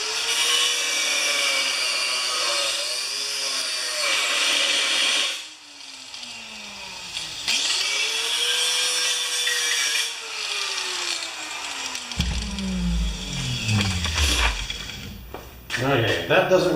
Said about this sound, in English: One more try with the angle grinder. I'm going to take more of the steel off.